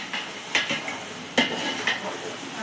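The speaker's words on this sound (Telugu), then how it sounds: "అల్లం పేస్ట్ బాగా ఫ్రై అవ్వాలి." Ginger paste fries in a pan, a faint sizzle beneath a few sharp clanks and scrapes of a spoon stirring against the metal.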